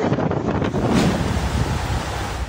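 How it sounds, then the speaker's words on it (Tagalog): Strong wind and rain lash Quezon City, a steady, loud roaring rush that fills the whole stretch without a break, with no voices. "maramdaman ang malalakas na hangin at ulan sa Quezon City"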